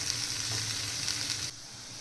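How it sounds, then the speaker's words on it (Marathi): Raw mango pieces and green chillies fry in hot mustard-seed tempering oil for a mango pickle, giving a steady, bright sizzle that fills the first part and then drops to a softer hiss. "आता आपण ह्या फोडणीमध्ये ही कैरी आणि मिरची छान फ्राय करून घ्यायची"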